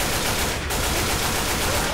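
Dense, continuous rapid gunfire from the co-op zombie shooter Left 4 Dead 2, loud and close, overlapping bursts filling the whole moment without pause.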